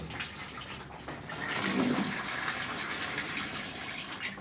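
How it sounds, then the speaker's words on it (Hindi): Water gushes into a bucket as it is rinsed out, a steady splashing rush that swells midway and carries on without talk. "बाल्टी को धो लेते हैं।"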